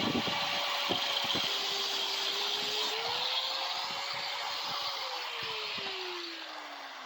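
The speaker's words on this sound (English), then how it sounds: "we're just going to give it a little slice with the grinder" An angle grinder cuts into the exhaust pipe of a Coleman CT200U-EX trike, a steady high whine that drops in pitch as the disc loads up and fades at the end, with a few clicks near the start.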